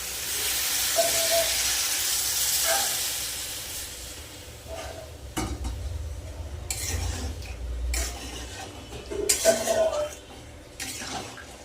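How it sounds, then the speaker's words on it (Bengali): Water poured into fried spice masala for an aloo, potol and cauliflower curry bursts into a loud steamy hiss that fades, followed by spoon stirring and scraping in the pan, with clinks. "মশলা কিন্তু ভালো করে কষিয়ে নিয়েছি এবার জল দিয়ে দেবো"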